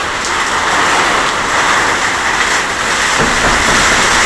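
Heavy rain driven by a hurricane-force windstorm with gusts near 24 metres per second makes a dense, constant roaring hiss, close and loud without a break.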